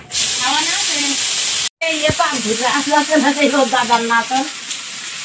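Black cumin and ginger paste sizzle and fry loudly in a pan for a curry, a steady hiss broken by a brief gap, with background talk and a voice over the sizzling.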